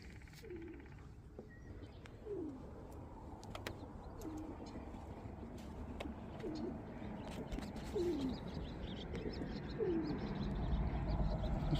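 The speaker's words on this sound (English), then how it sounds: "Pigeons." Pigeons coo in a repeated low rhythmic pattern, about six soft calls spaced every couple of seconds, beside brackish river water at a boardwalk, with steady outdoor background noise and scattered faint chirps.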